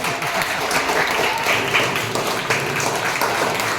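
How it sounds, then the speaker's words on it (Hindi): An audience at a school event applauds a team, a dense, steady wash of many hands clapping together that runs through the whole stretch without pause. "तालियां।"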